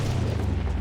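A giant burning palace gate bursts open with a deep, rumbling boom, loud and close, filling the whole short moment.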